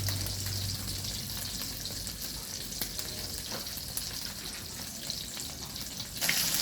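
Beef burger steak frying in a pan, a steady close sizzle holding at an even level throughout with no one talking.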